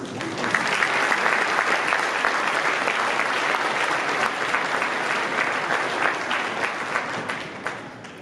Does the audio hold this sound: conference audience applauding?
yes